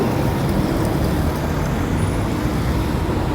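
Steady, dense highway traffic roars close by and unbroken, a continuous wash of cars, buses and trucks passing with no talk.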